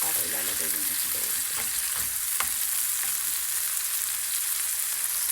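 Tomatoes and egg frying in a pan, a steady, loud sizzle filling the whole clip, with a few soft stirring scrapes and clinks near the start and no talking.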